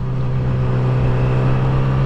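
A car engine revs hard and steady at close range, its low droning roar sustained without a break and no talk over it, in an outdoor setting near water where people are fishing.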